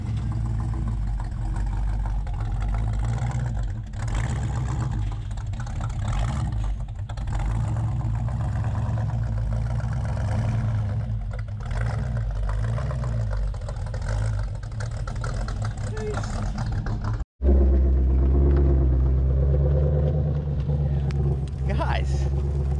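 A 2020 Chevrolet C8 Corvette with first big modifications rumbles steadily at low speed while being driven into a trailer, a deep continuous engine drone up close, with a brief break and a heavier rumble at the end, voices talking over it.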